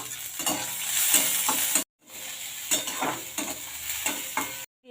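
Chopped onion frying in hot oil with black cumin, cumin and whole spices: loud, bright continuous sizzling with scraping stirs, briefly cut off twice.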